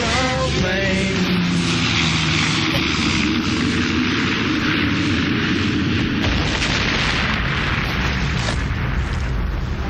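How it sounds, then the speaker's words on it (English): An airplane engine as a sound effect in a radio broadcast: a loud, sustained roaring drone that begins with a rising whine and holds steady across the full ten seconds as a dense, booming wash. "Jessica's gonna fly that plane"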